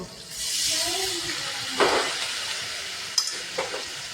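Warm water poured into a pan of sizzling fish masala sets off a sharp hiss of steam and frying, with a few quick stirring scrapes and a soft voice in the background.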